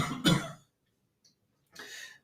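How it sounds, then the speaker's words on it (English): A forced cough done while bent over in a qigong and Dao yoga movement session: one short, loud, harsh burst near the start, then a pause, and later a breathy throat-clearing exhale, with no talking. "this time we're going to bend over and force a cough"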